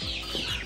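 Young chickens in a crate at a poultry house, a brief burst of close, overlapping peeping and clucking, moderately loud and alone.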